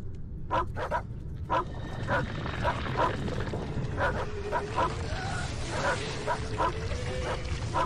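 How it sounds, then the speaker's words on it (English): Dogs in The Thing video game bark and yip in repeated short bursts across the whole stretch, with whimpering mixed in, over a steady game ambience at moderate loudness. "I don't know what are making the dogs go fucking bonkers for."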